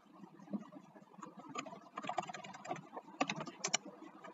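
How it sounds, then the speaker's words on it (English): Computer keys click as code is typed, in irregular quick bursts of soft taps with a few sharper strikes, close and fairly quiet. "I will start typing the code that will transcribe this audio file"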